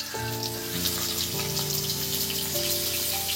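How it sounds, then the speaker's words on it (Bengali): Cut pointed gourd pieces fry in oil left over from frying potatoes, giving a steady, dense crackling sizzle like rain throughout, with soft sustained musical tones underneath. "এবার বন্ধুরা যে পটলগুলো আছে বন্ধুরা, এই যে কেটে রেখেছিলাম, সেইগুলো আবার এই তেলের মধ্যেই আমি দিয়ে দেবো"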